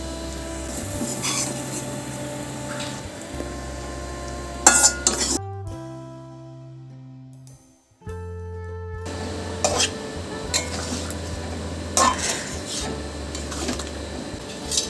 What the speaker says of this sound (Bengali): এবার আমি এটা আলুর দমটার মধ্যে মিশিয়ে দেব।